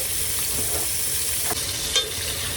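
Steak searing in melted butter on a portable hot plate inside a 2023 Flagstaff E-Pro 15TB camper, a steady close hiss of sizzling with a couple of soft pops and clinks, no voices.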